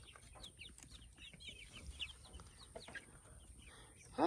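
Chickens in a homestead pen with a large feeder give soft, scattered clucks and high peeps, faint and somewhat distant over low background noise, ending with a sudden louder bump.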